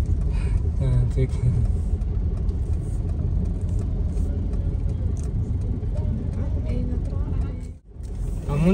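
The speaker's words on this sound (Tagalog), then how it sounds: "Traffic." Road traffic near SM City North Block in Victorias City: a continuous rumble of passing cars and engines, close and fairly loud, with a brief dip near the end and voices mixed in.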